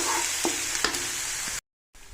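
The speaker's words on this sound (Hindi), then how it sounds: "इसमें हम लोग लहसुन अदरक का पेस्ट वो डाल देंगे और इसे अच्छे से फ्राई कर लेंगे" Onion and garlic-ginger paste fry in a pan with a close, steady sizzle and a few scraping stirs, briefly cut to silence before the frying resumes.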